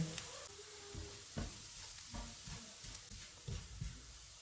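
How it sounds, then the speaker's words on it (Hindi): Onions and flour fry in a pan with a soft, continuous sizzle and hiss, broken by light scraping knocks of stirring at irregular intervals; close but fairly quiet, no talk. "1 टीस्पून मैदा डालेंगे और इसको 2 मिनट तक भूनेंगे।"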